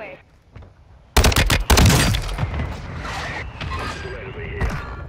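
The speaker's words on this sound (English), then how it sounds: "Mortar strike on the way." Mortar strike in Call of Duty Warzone lands as a sudden cluster of loud, sharp explosive blasts, followed by a long rumbling tail with scattered distant booms and game noise underneath.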